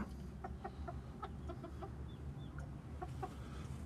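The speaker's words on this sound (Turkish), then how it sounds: "Mükemmel yumurtacı tavuklar arkadaşlar." Laying hens in a coop give soft, quiet clucks in short rhythmic runs of several notes, with a couple of higher chirps partway through, over a low background hum and no speech.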